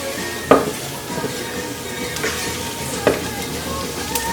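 Garlic and red pepper flakes sizzle steadily in a pan for a linguine with white clam sauce, a continuous close frying hiss punctuated by a few sharp clinks of utensils against cookware, with no talking.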